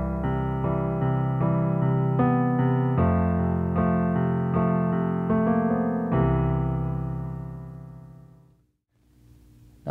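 Piano chords from a song played with the sustain pedal held down through each chord, a loud, rich sequence of repeated chords that rings out and slowly decays to near silence, then a soft new chord.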